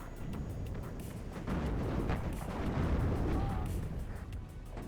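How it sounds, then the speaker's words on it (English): Artillery fire landing in the WARNO wargame, with Leopard 2A3/2A4 and T-80 BV tanks nearby, comes as a steady rumbling barrage of dull booms and crackle under a low voice. "Artillery coming in on the area."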